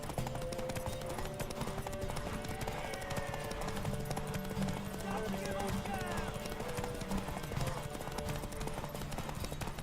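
Rhythmic clip-clop of horse hooves trotting steadily throughout in The Witcher 3: Wild Hunt video game, with game sounds and a voice talking over it.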